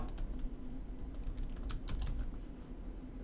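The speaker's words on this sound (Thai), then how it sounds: "ขอพิมพ์เต็มก่อนนะครับ" Fingers typing a kubectl command on a computer keyboard, a quick run of light, close key clicks over a low steady hum, with no speech.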